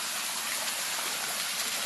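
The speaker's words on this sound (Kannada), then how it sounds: "ನೀರು ನೋಡಿ ಎಷ್ಟು ಹರಿತಿದೆ ಎಷ್ಟು ಪೋಲ್ ಆಗ್ತಿದೆ ನೋಡಿ" Water gushes and splashes from a leaking water tank in a steady, broad rush with no pauses, fairly close and continuous throughout.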